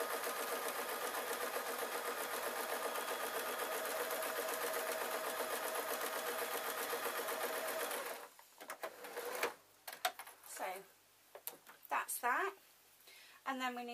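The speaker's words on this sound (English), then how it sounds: "I know my sewing machine" A sewing machine runs steadily, stitching the fabric sides of a knitting bag with a rapid, even mechanical rhythm for several seconds, then stops and a few clicks and handling noises follow.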